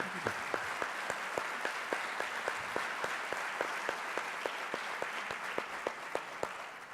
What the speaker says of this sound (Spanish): Fuerte aplauso para nuestro Big Leaguer Francisco Cervelli, que está aquí.